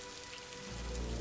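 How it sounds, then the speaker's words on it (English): Rain from the ambient dungeons mod in Daggerfall Unity, a dense steady hiss of rainfall that swells slightly with a low rumble, continuous and alone. "I love the sound of rain."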